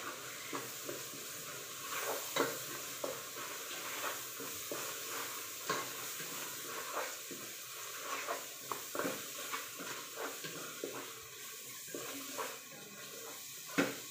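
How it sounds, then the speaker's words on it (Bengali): Ginger, garlic, onion and spices frying and being stirred in a pan for a meat and moong dal dish, with a low steady sizzle under repeated scraping stirs and clinks of the spoon against the pan. "আদা রসুন পেঁয়াজ সব ধরনের মশলা দিয়ে কষিয়ে নিচ্ছি ভালোভাবে"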